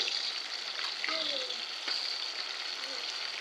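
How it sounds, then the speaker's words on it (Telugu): Fish fries uncovered in a pan with a dense, steady sizzle throughout, fairly close, with faint clicks and a brief muffled voice-like tone partway through. "ఇలాగే మూత లేకుండా కాల్చుకున్నామండి కాసేపు బాగా ఫ్రై అవ్వాలండి చేపలు"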